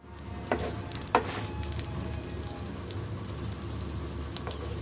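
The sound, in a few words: egg moglai frying in oil in nonstick pan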